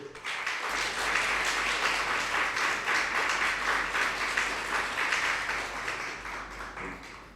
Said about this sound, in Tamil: உங்கள் பலத்த கைத்தட்டல்களோடு